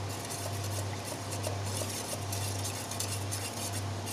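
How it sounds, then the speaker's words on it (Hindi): A pot of sweet daliya porridge is stirred steadily, with soft scraping and light clinks of the spoon against the pot over a constant low hum throughout. "इसका बॉयल आएगा तो फिर हम इसको बीच बीच में चलाएंगे।"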